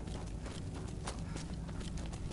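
Horse hooves clop on the ground in the video game Skyrim, a quick, faint run of steady hoofbeats over a soft background hiss.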